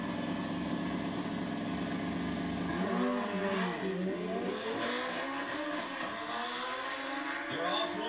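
A Ninja motorcycle launching on an exhibition drag run at Sacramento Raceway in 1996, its engine revving and rising sharply through gears as other vehicles roar alongside, loud and fairly distant.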